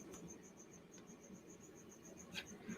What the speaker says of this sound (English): Cricket's still chirping.